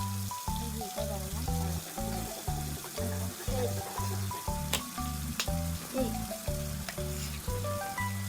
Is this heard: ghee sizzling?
yes